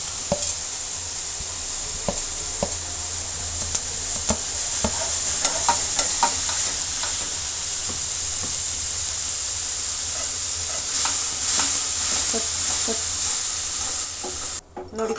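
Onion and tomato frying in a pan for a spicy soup, a continuous close hissing sizzle with intermittent stirring clicks and scrapes, steady and fairly loud until it cuts off at the end.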